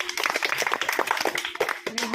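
A group of people clap their hands in quick bursts during a number-guessing game, with voices talking and calling out over the claps.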